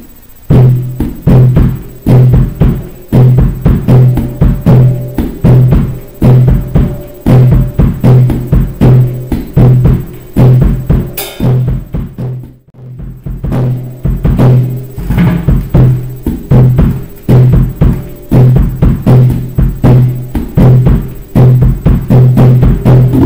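A steady, busy bossa nova drum groove played with brushes, syncopated offbeat accents running without pause, briefly thinning near the middle before resuming, loud and close with no talking.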